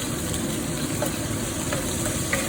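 Chicken and curry paste fry in a hot pan for a laksa, giving a steady, even sizzle that carries on without any talk.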